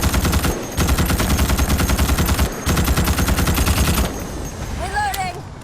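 Rapid automatic gunfire rattles in long bursts against bugs in Starship Troopers: Extermination, breaking off briefly before fading under radio-style voices and game effects at the end.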